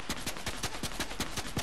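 Rapid shots from a player's weapon in the video game Fortnite, a steady run of about nine evenly spaced gunshot cracks under a constant game background.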